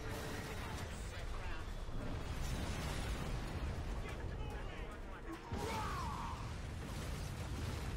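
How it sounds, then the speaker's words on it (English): Explosions in the Prototype 2 video game, a dense rumbling wall of blasts and crashing debris that runs almost without a break, loud and close, with a brief dip before the noise surges back. "Oh, guys, don't look at explosions."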